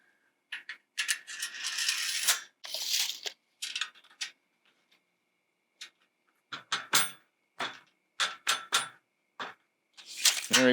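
A nut and bolt are handled against metal purlins: scattered metallic clinks, rattles and scraping taps come in short irregular bursts separated by near silence, close and fairly faint.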